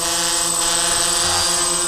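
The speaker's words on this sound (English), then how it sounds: "let's first experience a little bit of the gentle sound of a typical drone in flight" A drone in flight gives off a steady, loud, buzzing whine of tonal hum that holds evenly throughout, with no talking.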